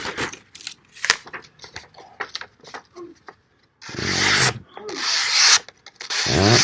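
A Demko Sharksfoot knife slices through a sheet of paper in several bursts of crisp, rasping cuts, close and loud, separated by quieter handling clicks and pauses.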